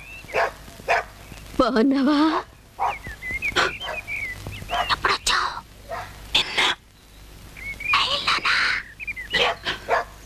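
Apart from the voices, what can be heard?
hungry dog barking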